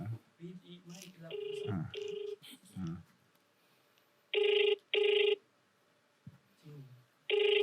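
A phone call to a celebrity rings out as three loud, evenly spaced telephone ring bursts in the later half, following an earlier stretch of talk and dial-like tones.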